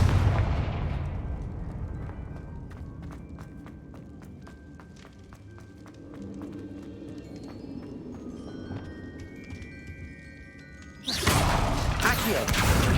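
A Confringo fire spell blasts in Hogwarts Legacy with a loud burst at the start, then fades into clicks and crackling effects. A second loud, broadband blast erupts near the end.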